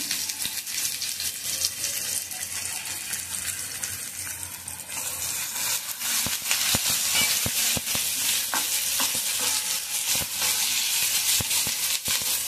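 Coriander and curry leaves sizzle in hot oil for a tempering, a steady loud hiss with scattered crackles and pops that grow busier toward the end, with no talk.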